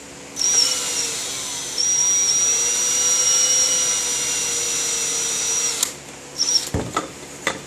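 Power drill boring holes while building a homemade belt sander, a loud steady whine held for about five seconds before stopping, followed by a few clunks and knocks.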